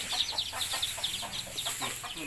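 Thai native village chickens cluck in quick, repeated bursts, close by and fairly steady over a soft outdoor background, with no one talking.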